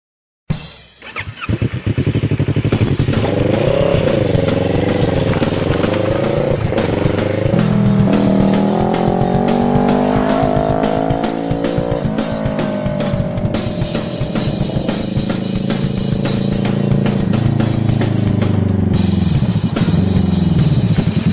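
A motorcycle on a Pyrenees road trip drones loudly and steadily as it is ridden, its engine pitch rising and falling with the shifts, over rushing wind noise, close and continuous.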